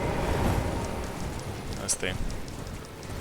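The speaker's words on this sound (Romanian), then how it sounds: "Plouă mult, nu glumă." Steady rain falls in the video game Elden Ring. The patter is dense, continuous and broadband, and a person speaks briefly over it.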